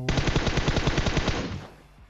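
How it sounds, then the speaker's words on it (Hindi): A long continuous burst of M249 machine gun fire in PUBG Mobile, rapid evenly spaced shots for about a second and a half, loud and close, then fading into a short decaying tail. "अब आपने सुना होगा ऊपर पहाड़ी की तरफ कोई एम टू फोर नाइन रहा होता है सौ गोलियां चला रहा होता है"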